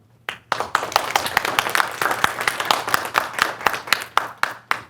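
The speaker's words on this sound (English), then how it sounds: "let's give Nolan one more round of applause if we could" An audience claps for a presenter at a talk and panel event in Grand Rapids, with a few distinct hand claps rising quickly into brisk, closely miked applause from a modest crowd that holds steady for several seconds.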